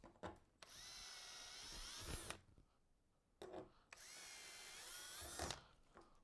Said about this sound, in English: you want to go ahead and drill the rest of your holes with a 3/16